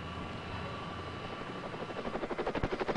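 A 1972 army helicopter setting down at Manchester International Airport to refuel, its steady loud rotor and engine drone building into a strong rhythmic blade thump toward the end.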